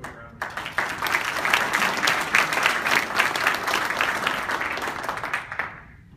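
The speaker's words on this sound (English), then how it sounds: "I want to give this a quick round of applause." Audience giving a round of applause at a mentorship closing ceremony, starting abruptly, swelling into full dense clapping near the room and holding for several seconds before fading out at the end.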